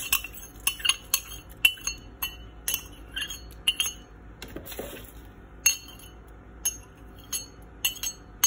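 Caustic soda is stirred into demineralised water in a glass container, giving a series of bright, irregular clinks and taps close by with short scraping swirls between them.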